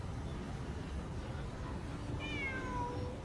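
A cat in the video game Genshin Impact meows a couple of times over a steady low background hum, the calls fairly faint and drawn out.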